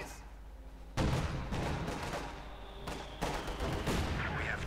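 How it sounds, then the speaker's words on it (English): Mortar fire in the Company of Heroes 2 video game, heard as a sudden burst of explosive blasts followed by sustained rumbling barrage and a second loud impact, dense and noisy throughout. "Mortar fire going down."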